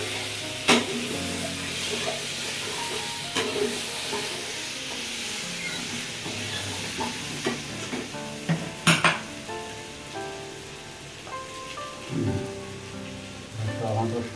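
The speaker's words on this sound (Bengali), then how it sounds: "কিছুক্ষণ মশলাটা কষে নেবে" Potatoes sautéed with spice masala in a pan, with scraping stir strokes and sizzling throughout, occasional sharp clinks of a utensil, and a busy background of household noise, loudest in bursts near the middle and toward the end.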